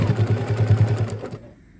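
A sewing machine runs in a fast, steady stitching rhythm while sewing a square onto a necktie apron, the close mechanical whir and clatter holding for over a second before cutting off into near silence.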